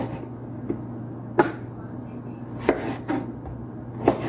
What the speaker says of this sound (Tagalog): ang tomato ay malaki ang paghiwa ko sa tomato